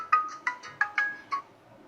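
A phone ringtone sounds at night, five short electronic tonal bursts in a quick, slightly uneven rhythm, fairly clear and close with no talking.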